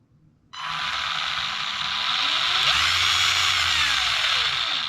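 A Tamiya TT02 rally RC car powers on and its servo and electric motor whir steadily, a high mechanical drone that starts abruptly, holds close and loud, then rises slightly in pitch midway.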